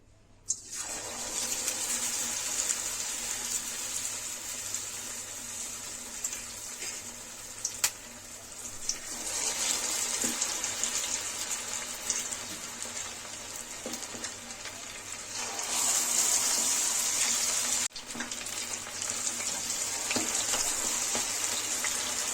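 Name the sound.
chicken lollipops deep-frying in hot oil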